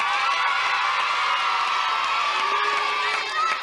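A TV studio audience on the 1991 TF1 children's show Disney Club cheering and clapping for the kids, a dense, loud wash of shouts and whoops that holds steady before tapering off.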